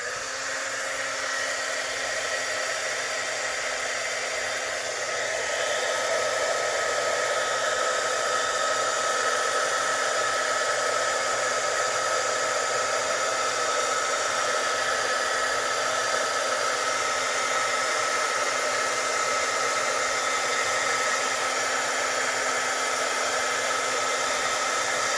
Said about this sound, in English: I'm going to turn on my heat tool, and we'll go ahead and heat emboss this.